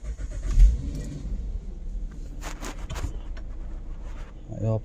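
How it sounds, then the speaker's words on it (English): An Acura MDX engine cranks and starts after spark plug work, a low close rumble that settles into a steady idle, with no talk. "Okay, maybe I have to start the car."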